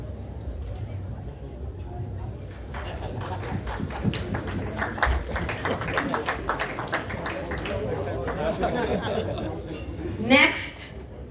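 Audience at the Second Annual Sikh American Chamber of Commerce Gala breaking into applause, building from scattered claps into steady clapping with cheers and crowd chatter, then trailing off with a brief whistle near the end.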